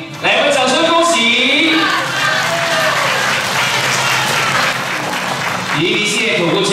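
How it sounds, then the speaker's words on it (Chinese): Applause at an award ceremony held in an international conference hall, a large audience clapping steadily and loudly for several seconds, with a voice speaking over it at the start and end. "来我们掌声恭喜"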